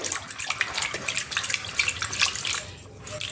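Water poured onto milk cream while making ghee: a continuous close splashing and trickling, fairly loud and steady for a few seconds.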